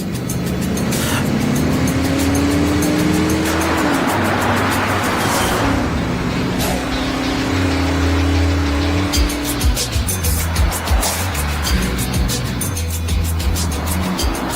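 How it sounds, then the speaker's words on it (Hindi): A car accelerates hard with a rising engine roar, loud and close, while tyres squeal and the engine revs surge and drop for several seconds. "चलो गाड़ी तेज भगाओ।"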